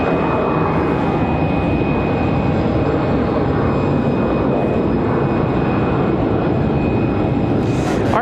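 An Airbus A320 jet departs from Raleigh-Durham airport, a steady loud engine roar with a high whine held throughout, no talk over it.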